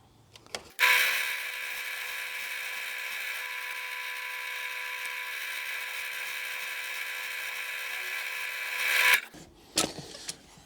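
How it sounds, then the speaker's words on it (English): A lathe milling kit trims a pen blank down to its copper tube, giving a steady, high whirring grind for about eight seconds. A click comes before it starts, and a few knocks follow after it stops. "what I've done now is I've put in a milling kit, and it's going to trim off this this blank"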